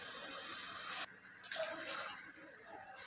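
Water pours steadily into a pot holding sugar and cardamom for syrup, a close continuous splashing stream that briefly breaks off and then resumes.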